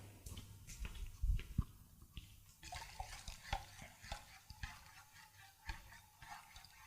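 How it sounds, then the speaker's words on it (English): A spoon repeatedly scrapes and knocks against the container while hot lye soap mixture is stirred, making uneven clinks and swishes at low volume, with a thud near the start. "I'm going to come back and stir again"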